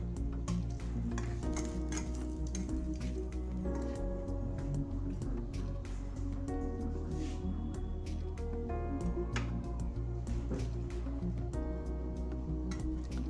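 Egg snacks frying in a pan give a steady, low sizzle, with light stirring and occasional faint clinks of a utensil against the pan throughout.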